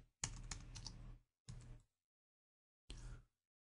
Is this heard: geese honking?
no